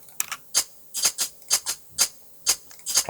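Closed hi-hat drum sample from a house track's drum programming, playing short crisp ticks in a quick syncopated pattern with occasional doubled hits, bright and dry, alone without other instruments.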